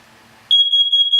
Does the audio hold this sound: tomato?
no